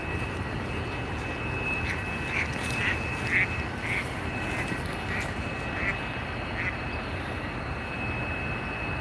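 Ducks quack by a stream in a few short, evenly spaced bursts, heard at moderate distance over a steady wash of broadband outdoor noise.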